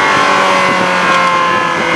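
A Ferrari F1 car's engine blips and rev-matches through a double paddle downshift, a loud, close, strained engine tone that rises and falls with no voices.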